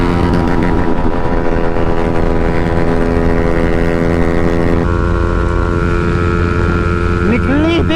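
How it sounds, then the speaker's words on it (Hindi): A motorcycle engine in a drag race, a 2026 KTM Duke 200 or 2026 XSR 155 in fifth gear, holds a loud, steady, buzzing high-rev drone close by. Wind roars over it, and the pitch shifts slightly partway through. "अरे भाई लिमिटर बहुत गंदा हिट कर रही है ये"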